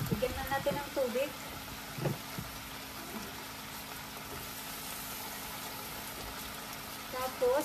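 Water hits vegetables frying in a pan for Bisaya-style pinakbet, producing a continuous sizzle and hiss under brief stretches of talk at the start and end.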